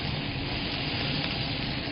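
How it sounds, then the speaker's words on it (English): Vegetables with onions, turnip, rutabaga, potatoes and celery root sizzle steadily in a hot pan, a close, continuous frying hiss without any voices. "our pan is hot, and we are going to begin adding our vegetables"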